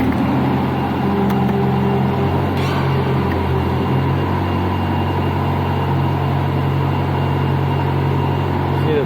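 A Kubota D1505 diesel engine on a Niftylift access platform runs at low revs, a loud, steady, droning idle with a constant low hum. It stays close and even for the whole stretch.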